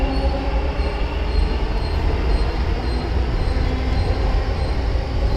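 A metro train at a city metro station makes a loud, continuous rumble and rolling roar with faint high squealing tones above it. The sound stays steady throughout, with no voices.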